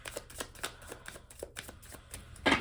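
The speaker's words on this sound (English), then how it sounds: "So I'm going to go ahead and continue shuffling here because I'd ideally just want 1 or 2." Tarot cards are shuffled by hand close up, with a quick run of papery riffles and slaps in an uneven rhythm. A louder burst of shuffling comes at the end, and nobody talks.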